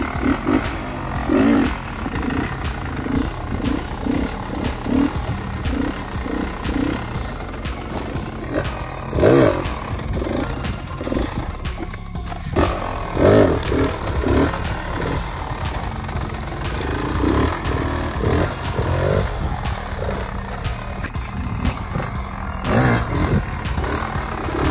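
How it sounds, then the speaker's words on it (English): A motorcycle engine runs throughout a slow wheelie, a steady, fairly loud rumble with repeated pulsing surges of throttle and a few louder revs. "using the rear brake to help you maintain that slow wheelie"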